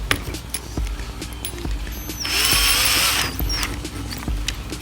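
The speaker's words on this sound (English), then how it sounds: "I'm going to drill at a 45-degree angle." Power drill boring a starter hole at a 45-degree angle in wood for a carpenter bee trap, a steady whine rising for about a second mid-clip amid scattered clicks and handling knocks, close by.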